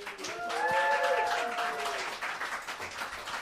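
A radio session audience breaks into applause for Suzanne Vega, a steady wash of clapping with a brief voice rising over it early on, fairly faint overall.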